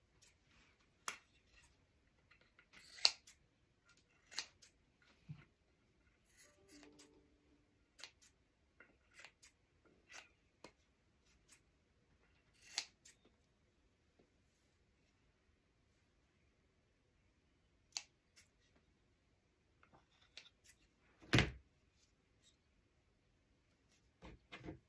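Scissors snip a small craft piece for a bunny shelf sitter, sparse quiet cuts spaced irregularly in a silent room, with occasional louder clicks of the blades.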